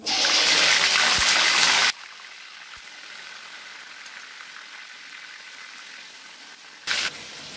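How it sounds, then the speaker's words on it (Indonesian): Chicken going into hot oil sets off a loud, dense sizzle for about two seconds. It then drops to a faint, steady simmer, with a short, louder burst of sizzling near the end. "Minyaknya udah panas, kita goreng dulu ayamnya."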